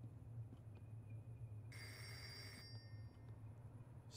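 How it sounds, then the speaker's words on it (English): A phone rings in the horror video game Reveil, a bright electronic trill lasting about a second, faint against a low steady background hum with no talk. "That, a phone ringing?"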